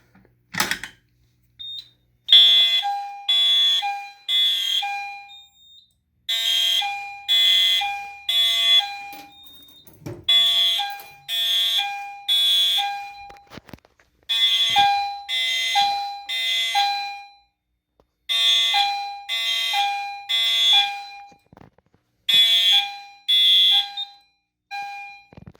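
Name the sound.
EST fire alarm sounding code 3 after pulling the 278B pull station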